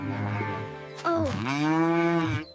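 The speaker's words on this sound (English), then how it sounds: "It is a cow. It is a very big cow." A big cow moos loudly at close range on a farm in a drawn-out low call that wavers briefly in the middle and then holds steady, with no voices.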